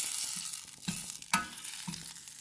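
Butter cooks down in a pan for homemade ghee, a quiet bubbling sizzle broken by a few soft stirring clicks and one sharper tap, with no talking.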